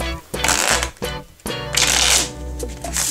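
A blue Bicycle playing card deck is shuffled up close in several loud, crisp riffle bursts with brief pauses between them, the cards flapping and cascading rapidly.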